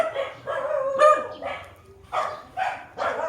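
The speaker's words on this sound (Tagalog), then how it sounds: "So many dogs" Several dogs bark in short bursts, kept indoors in houses along a residential street in Davao City, moderately near, with irregular gaps between barks.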